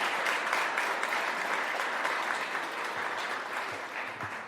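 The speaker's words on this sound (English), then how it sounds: "Let's give them a well-deserved round of applause." Audience applause for event volunteers fills a conference room, a steady dense clapping from a sizeable crowd lasting several seconds without pause, fairly loud and close.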